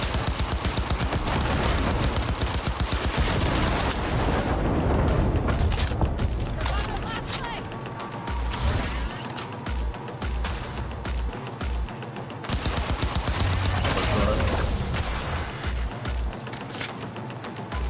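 Gunfire in Cyberpunk 2077 rattles off in sustained rapid bursts, dense and loud, breaking into short gaps and then resuming, with mechanical clatter and game voices mixed in.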